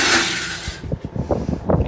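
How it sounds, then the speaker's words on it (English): Knuckle knocking a screen into an RV bathroom ceiling fan on a 2017 Winnebago Minnie Winnie 25B, giving a rush of fan noise followed by several quick close rattling taps and knocks. "Sorry about the noise, my knuckle was hitting the screen, which kind of pushed it into the fan."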